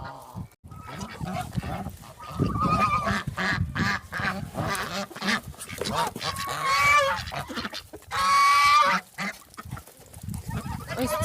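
Several geese honk loudly and repeatedly close by, with harsh, overlapping calls and a few long drawn-out honks.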